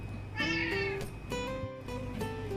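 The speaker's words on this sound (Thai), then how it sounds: "น้องเป็นแมวน่ารักนะคะไม่ค่อยเกเร" A young cat meows several times in a row, clear and close, each call drawn out and rising and falling, with no talk over it.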